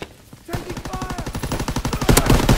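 Sustained rapid automatic gunfire in a military video game builds in intensity to a loud, dense fusillade, with shouting voices mixed in.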